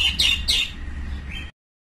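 Pigeon at a wildlife sanctuary giving a few short, close calls in the first second, with a fainter call near the end, over a low outdoor rumble.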